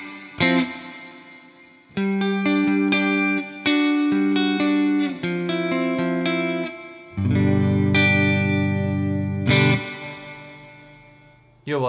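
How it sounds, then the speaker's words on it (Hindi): Electric guitar played through the spring reverb setting of a NUX Atlantic delay and reverb pedal, with both knobs at midpoint: sustained chords and picked notes ring out with a splashy, drippy reverb tail that fades between phrases. "यो भयो स्प्रिङ रिभर्ब है"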